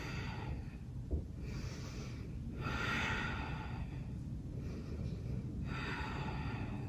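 Slow, deep breaths during a held yoga pose, several long inhales and exhales in a steady rhythm, close and moderately loud with no talking.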